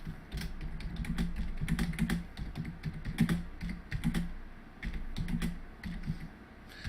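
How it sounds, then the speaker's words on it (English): Text being typed into an HTML file on a computer keyboard, producing a steady stream of close, crisp key clicks in uneven bursts with brief pauses, clear and unaccompanied by speech. "So I'm just going to type some text in here."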